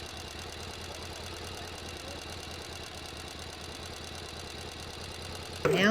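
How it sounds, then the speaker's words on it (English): A sewing machine runs steadily, back stitching fabric for a reusable gift bag, a continuous mechanical hum with a regular rapid needle rhythm, close by and moderately quiet, ending with a brief louder clatter at the very end. "I'll do a couple of back stitches so that when I'm turning it, it will come loose."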